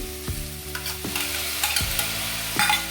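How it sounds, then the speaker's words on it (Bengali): Tomato paste going into a pan of frying onion, ginger and garlic paste for katla kalia, a steady close sizzle broken by several sharp scraping stirs of a spoon against the pan. "এরপরে টমেটো পেস্টটা দিয়ে দিচ্ছি"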